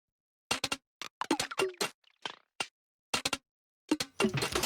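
A sparse, punchy drum pattern with kicks and snappy hits, irregular percussion accents in between, loud and close with short gaps.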